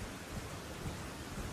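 Steady rain with low thunder rumbles in the Elden Ring: Shadow of the Erdtree DLC, a dense, even wash of downpour filling the whole short stretch with no speech.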